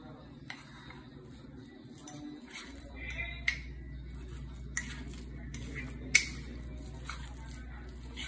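A spoon stirs a mug brioche mixture in a mug, making faint, soft clinks and taps over a low steady background hum.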